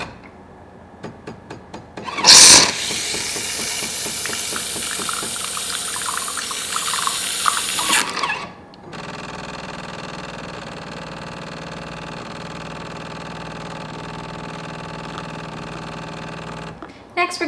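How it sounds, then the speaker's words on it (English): A Jura S8 super-automatic espresso machine steams milk for a macchiato with its lever kept slightly closed. A loud burst of steam hiss comes first, then a steady hissing drone with a motor hum that runs on and cuts off near the end. "We're going to keep the lever slightly closed so we don't get as textured of a milk. It will be more steamed milk."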